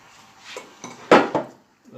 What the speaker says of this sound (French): avec une petite cuillère, on va lisser la pâte quand même